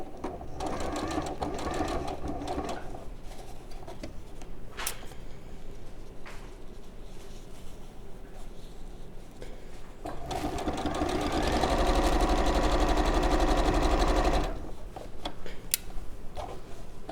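A sewing machine stitches fabric for a weekend bag, whirring in a rapid, steady mechanical rhythm up close, speeding up into a louder sustained run in the latter half.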